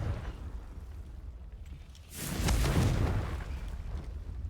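A Confringo blasting spell in Hogwarts Legacy on PS4 bursts into a single loud, booming explosion partway through, then a rumbling decay after a quieter ambient lead-in.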